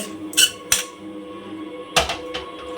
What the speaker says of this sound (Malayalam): ഒന്ന് ഇളക്കി യോജിപ്പിച്ച് കൊടുക്കണം കേട്ടോ അപ്പം തന്നെ നമ്മുടെ ഈ കപ്പ ഉടയും